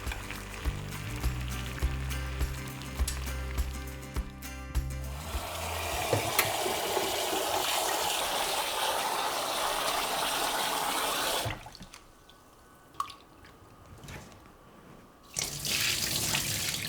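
Cold tap water pours steadily into a sink to shock freshly cooked thin wheat noodles, with clattering and rustling at first, a long even rush, a pause with a faint clink, then the flow resumes.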